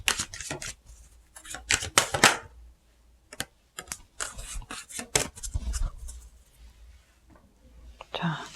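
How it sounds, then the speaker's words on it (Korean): Romance angel oracle cards shuffled and laid out by hand, a close series of soft flicks, rustles and taps in bursts, with faint whispery voice between. "연애운을 위한 로맨스 엔젤 카드도 한 장 뽑아볼게요."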